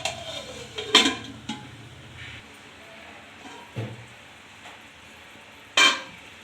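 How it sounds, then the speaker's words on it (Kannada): A lid set on a pot of boiling paneer butter masala gravy, with a few sharp metallic clanks and knocks spaced out over a quiet kitchen background. "ಮುಚ್ಚಳ ಹಾಕಿ ಕುದಿಸಿ."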